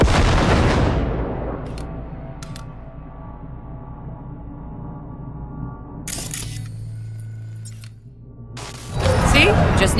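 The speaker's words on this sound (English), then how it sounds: "Now, detonate the grenade." Grenade blasts in Cyberpunk 2077: a loud broadband burst at the start that fades into a low rumble, then another heavy boom near the end, with game ambience between.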